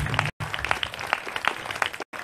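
A crowd applauds at the presentation of a national festival in Italy, with dense, continuous clapping from many hands, briefly cut off near the start and again near the end.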